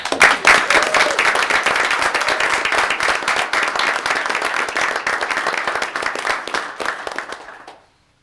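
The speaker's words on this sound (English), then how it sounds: "I think the students deserve a round of applause." An audience at a Veterans Day event gives students a loud, sustained round of applause, many hands clapping densely before the sound fades out abruptly near the end.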